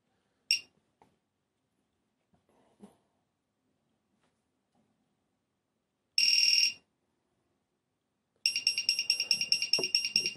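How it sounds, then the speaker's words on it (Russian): Short electronic beeps from a quadcopter flight controller running INAV, warning of a mode mismatch, sound alone in quiet: a brief chirp, then a longer tone, then a rapid repeating beep pattern at the end. "пищать, предупреждать меня полетник о том, что этот режим не соответствует данной комплектации"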